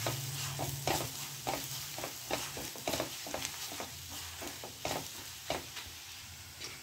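Chilli powder masala frying in a pan, a steady sizzle with repeated scraping stir strokes at an even rhythm, close and fairly loud with no voices.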